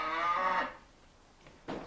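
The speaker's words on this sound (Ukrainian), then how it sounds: "Бо корова то й реве" A cow lets out a loud, drawn-out moo, falls quiet, then starts a shorter second low at the end.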